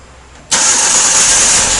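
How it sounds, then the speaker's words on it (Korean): A car engine cranks and fires during an ignition timing check, then settles into a loud, steady idle close by, with no talking. "자 시동 걸었습니다"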